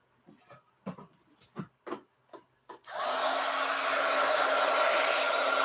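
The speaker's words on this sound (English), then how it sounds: "heat gun alert" A heat gun starts with a sharp click and then blows loud, steady and unbroken to dry wet craft paint on cards, after a run of light taps and handling noises.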